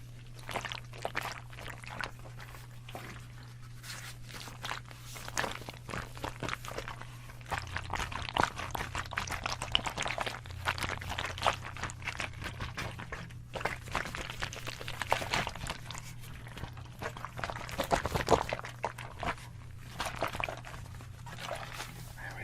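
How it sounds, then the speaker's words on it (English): Liquid is poured and trickles close to the microphone in an ASMR setting, a continuous watery splashing over a steady low hum, with a few louder sloshes partway through. "Yes, water sounds."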